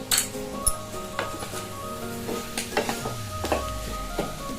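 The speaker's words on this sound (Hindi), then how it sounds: "5 मिनट भुनेंगे।" Masala kaleji (liver) sizzles softly in a kadhai. Intermittent spoon scrapes and metallic clinks against the pan cut through the low frying hiss.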